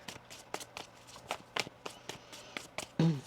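Tarot cards being shuffled in a series of quick, soft riffling taps at an uneven rhythm, close to the mic and fairly quiet.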